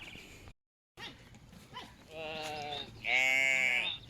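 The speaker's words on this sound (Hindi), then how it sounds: "इसको बकरी बोलते हैं।" A goat in a village setting in Oman lets out loud, drawn-out bleats, growing stronger toward the end, with a person talking in the background.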